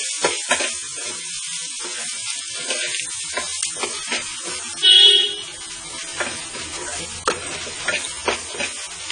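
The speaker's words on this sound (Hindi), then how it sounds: "मसाले को हम चलाते हुए 1 मिनट तक पकाएंगे।" Ground spices (salt, black pepper, coriander powder, chaat masala) sizzle steadily in a hot pan for potato vada filling, a bright continuous hiss with scattered scraping ticks from stirring and a brief louder surge midway.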